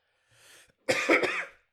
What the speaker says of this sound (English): That's why I'm coughing more.